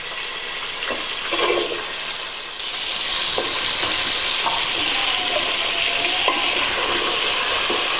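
Steady sizzling of drumstick pieces frying in oil, with a few soft clinks of a utensil against the pan.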